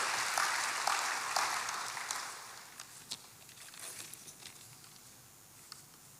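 A church congregation claps in praise to God, a burst of applause that starts fairly strong and thins out into scattered, fading claps, quiet and somewhat distant.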